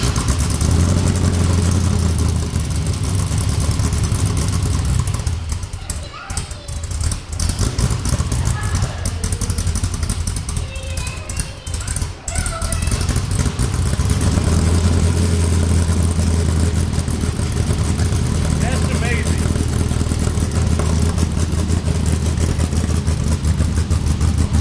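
LS V8 engine fitted with a budget camshaft and custom exhaust idles with a steady, loping low rumble, loud and close throughout, with a brief dip in the middle.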